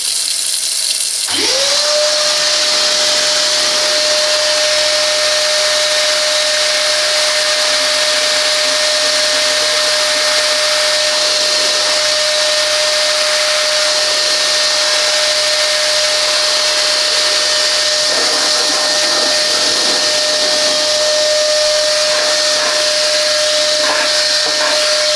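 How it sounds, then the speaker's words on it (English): A steady, loud blower on a Parkside PWD 20 B2 wet and dry vacuum cleaner roars continuously with a constant high whine, running alone for the whole stretch. "And the blower."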